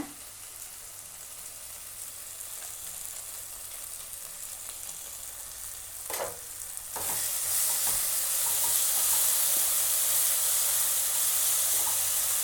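Masala fries in ghee in a pan with a continuous sizzle and hiss that jumps to a louder, fuller frying roar partway through, after a brief clatter of stirring.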